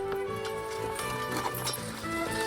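Heavy working horses plod across farmland soil, their steady hoof falls soft and rhythmic beneath continuous background music, with an occasional snort or whinny close by.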